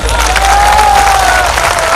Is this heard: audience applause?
yes